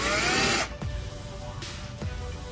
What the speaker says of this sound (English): We're going to drill the first hole